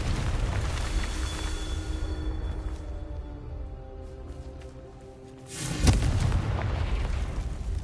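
A Confringo blasting curse from a Harry Potter video game erupts in one loud booming explosion after a quieter stretch of low rumble and hum.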